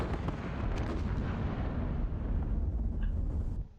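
Sustained, dense rumble of battle fire aimed at a machine-gun position in the wargame Squad Battles, a continuous loud roll of blasts and bursts with no clear separate shots, fading out at the end.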